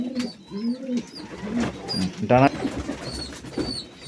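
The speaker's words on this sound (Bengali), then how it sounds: "নর বাচ্চা, খুব সুন্দর ছোট্ট সাইজের পায়রা।" A young male pigeon coos in low, rolling bursts close by, with a brief flutter midway, while someone talks over it.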